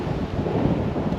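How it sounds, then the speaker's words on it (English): Steady low rumbling wind buffets the microphone while riding an e-bike through Daytona Beach parks, a dense continuous roar with no pauses. "it's a little windy today"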